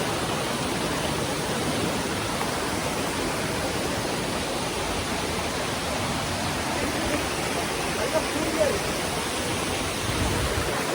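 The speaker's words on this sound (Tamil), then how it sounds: "அப்படியே மலையிலேருந்து அப்படியே தண்ணி வந்துட்டே இருக்கு" A mountain waterfall near Kanyakumari pours down in a steady, dense broadband roar that fills the scene evenly from start to finish, close and loud.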